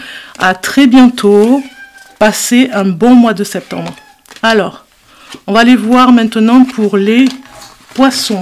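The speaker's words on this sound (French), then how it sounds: "C'est mon chat que vous entendez" A house cat meows intermittently beneath continuous close French speech, its cries faint and partly covered by the talking voice.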